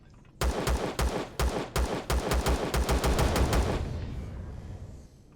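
Gunfire in the video game Empyrion: a rapid string of about a dozen loud, evenly spaced shots that blur into a rolling burst and fade into echo.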